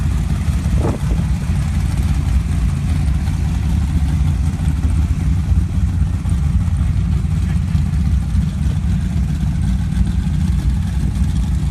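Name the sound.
off-road race trucks and Dune Jeep engines racing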